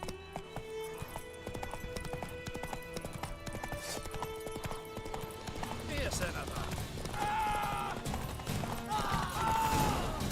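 A horse gallops in The Witcher 3, quick rhythmic hoofbeats drumming steadily under game music and ambience, building louder toward the end, with no one speaking during the clip.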